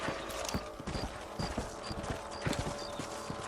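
Horses ridden across a ranch property in the Red Dead Redemption video game, with a brisk, steady clip-clop of hooves and a regular ringing jingle over constant background noise.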